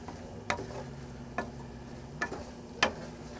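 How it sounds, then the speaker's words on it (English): Spoon stirring dry seasonings of garlic powder, white pepper, thyme and cayenne into a pot for Cajun shrimp and sausage pastalaya, four separate scraping strokes over a low steady hum. "We're going to give all this a really good stir."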